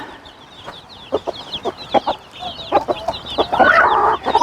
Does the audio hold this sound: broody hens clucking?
yes